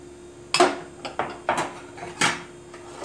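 A spoon knocking against a mixing bowl while Baghrir batter ingredients are stirred together, a series of sharp irregular clinks and taps, close and fairly loud, with no talk over them.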